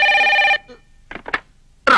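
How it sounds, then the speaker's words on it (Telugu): An electronic telephone ring in a Telugu film scene, one loud half-second burst followed by quiet clicks and handling noises, then the ring starting again at the end. "వాళ్ళ నాన్నగారు ఫోన్ చేశారు"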